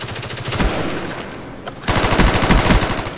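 Rapid automatic gunfire from the video game Call of Duty Black Ops rattles loudly in dense bursts, briefly easing before a second heavier volley, with no voices over it.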